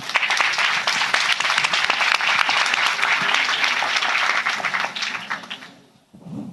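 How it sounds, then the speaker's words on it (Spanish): Sustained applause from a sizable audience at a panel discussion, dense and steady for several seconds before tapering off abruptly. "les pido un aplauso para el panel."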